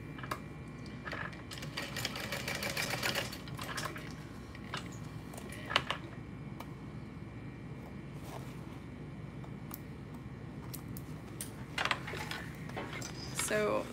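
A home sewing machine runs faint and intermittent while basting the fabric of a backpack in place, its whirring stitching mixed with small clicks and clinks in a quiet room, and someone talks softly at times.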